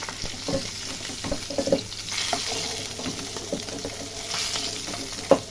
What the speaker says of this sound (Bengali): মাছগুলো সুন্দর ভাজা হয়ে গেছে